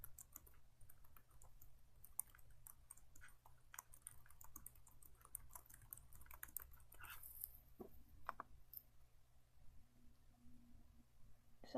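Someone types a message on a computer keyboard, with soft, quiet, irregular key clicks and taps spread over several seconds against a faint background hum.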